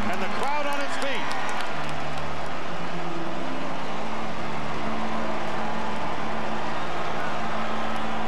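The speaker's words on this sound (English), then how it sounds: "And the crowd on its feet." A baseball stadium crowd on its feet with the Twins down to their last out, a loud, steady roar of cheering that fills the whole stretch, with a commentator talking over it.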